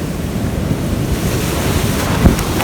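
Steady roar of ocean surf and gusting wind buffeting the microphone on an island cliffside, broad and continuous throughout, with no talking.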